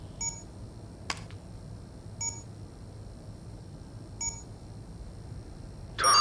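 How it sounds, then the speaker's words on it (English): Bomb timer in the tactical shooter Ready or Not, giving short electronic double beeps spaced about two seconds apart, clear over quiet room tone, with a brief click between. "Bomb timer is approaching zero."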